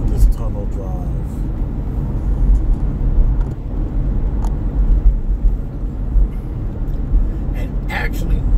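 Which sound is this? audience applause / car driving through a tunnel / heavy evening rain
car driving through a tunnel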